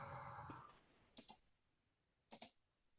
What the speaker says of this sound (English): Angry typing on keyboard.